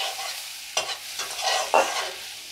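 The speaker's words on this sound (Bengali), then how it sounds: "রসুন আর লঙ্কা দিয়ে দিলাম" Garlic and green chili hit hot butter in a pan, sizzling softly while a spoon scrapes and stirs in a few distinct strokes, close up and quiet.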